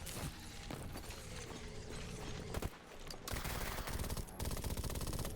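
Gunfire in the video game S.T.A.L.K.E.R. GAMMA comes as dense, loud bursts of rapid automatic shots with a brief lull between volleys, with no voices.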